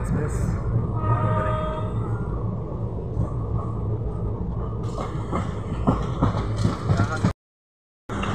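The 11801 express train pulls into a station with a loud, continuous rumble of rolling wagons and some clattering. Brief squeals rise over it, and voices are heard in the background.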